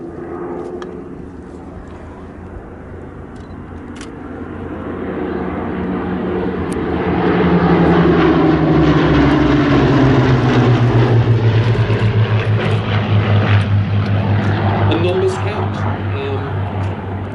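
A propeller aircraft engine drones at Sywell airshow, rising from a distant hum to a loud, sustained roar as the plane passes close, with a pitch that drops as it goes by, under a voice talking over it.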